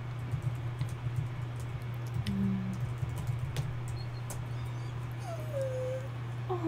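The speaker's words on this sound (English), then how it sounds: "Oh, puppy." A puppy whimpers softly indoors, giving a few high, thin whines over a quiet background hum.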